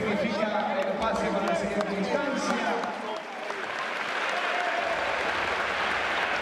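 Spectators at a Bahamas versus Argentina FIBA basketball game applaud and cheer in a large arena, a dense wash of clapping that swells again after a brief dip, with a commentator talking over it.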